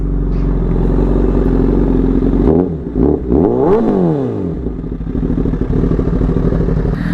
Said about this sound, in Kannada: inline 4 sound next level sound Guru